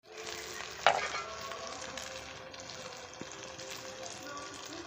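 Spice paste with green chili, turmeric and chili powder fries in a pan with a soft, even sizzle. A sharp clatter of a utensil comes near the start, and a faint tap follows later.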